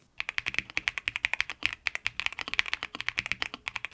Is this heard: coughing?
no